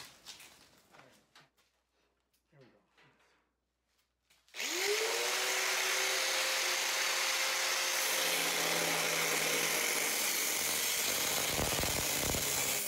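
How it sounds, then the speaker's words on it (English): Die grinder starting up on an IBC tote being cut for firewood storage, a sudden loud high whine that stays steady and close after a few seconds of quiet handling noises, with a shift in pitch as it bites into the metal. "Die grinder."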